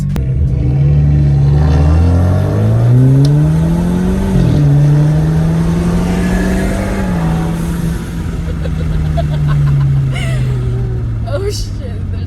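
Alfa Romeo Giulia fitted with a Eurocompulsion V2 intake, revving and pulling hard while racing in public. The engine note climbs and shifts through gears in a steady, loud, close drone, and people talk over it.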